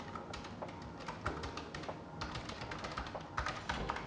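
Rapid, steady typing on a Razer Deathstalker V2 Pro low-profile linear keyboard, a close, continuous run of light clicks and taps with a few louder bursts.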